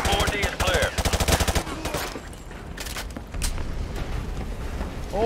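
Rapid machine gun bursts lay down suppressing fire in Call of Duty: Modern Warfare 2, loud and close, in a dense rattling volley. Quieter scattered shots and battle noise follow.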